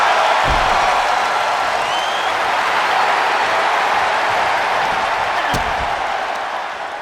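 Arena crowd noise from a WWE 2K24 wrestling video game: a dense, steady roar of cheering with a couple of sharp slams standing out, loud and continuous before easing slightly at the end.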